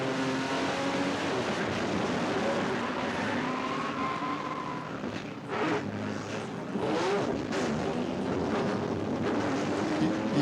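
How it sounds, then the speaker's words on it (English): A small 6-cylinder race car engine revs up at a short-track NASCAR race at Myrtle Beach Speedway, heard at a distance as a droning roar that rises and falls amid the broad din of the track. "You heard a motor revving up"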